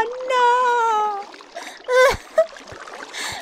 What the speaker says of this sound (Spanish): Bueno, ya nos hicimos aquí una cascada